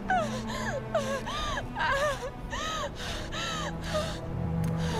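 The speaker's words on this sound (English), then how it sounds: "Look, even all the birds can feel your pain." Crows caw repeatedly in the Tomb Raider video game, with a series of harsh, rising-falling calls in a steady rhythm over about five seconds under a low ambient hum.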